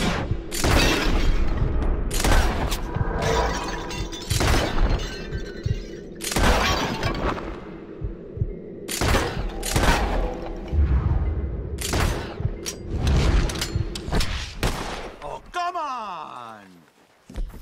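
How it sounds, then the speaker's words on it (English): In the Western video game Red Dead Redemption 2, a bottle-shooting contest plays out as a string of loud, sharp gunshots and glass shattering at irregular intervals, with a voice speaking between shots. "The one who shoots the most bottles wins."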